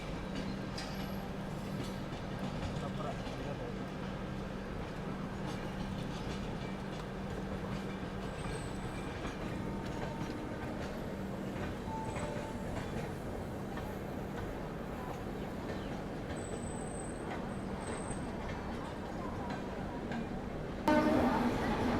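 Ganga Kaveri Express passing on the Chennai–Chhapra route, a steady, continuous rumble and rattle of rolling wagons heard from close by, with a voice speaking over it.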